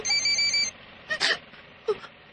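A mobile phone rings with a steady electronic tone, then short bursts of trilling ring follow, close and fairly loud with nobody talking.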